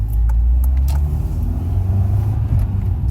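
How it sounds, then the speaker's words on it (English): A car is driven at night, its engine and road noise forming a loud, steady low rumble from inside the cabin, with a few faint ticks and clicks on top. "I'm driving home at night"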